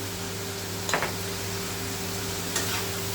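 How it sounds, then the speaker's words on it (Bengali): Potatoes sautéing with spices in a pan make a steady, low sizzle under a constant electrical hum, with two brief scraping stirs near the start and end. "এখানে আলু দিয়ে আমি মশলার সঙ্গে এটাকে দু মিনিট কষিয়ে দিই"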